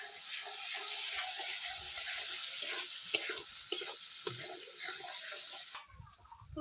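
Steady hiss of a little water poured into a hot pan of prawn curry with cauliflower and potato, running for several seconds with faint clinks, then cutting off near the end.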